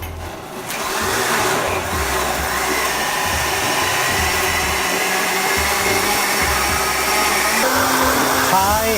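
A high-speed blender runs with a loud, continuous whirring roar that holds steady for several seconds, its motor pitch shifting slightly, while faint voices sit underneath.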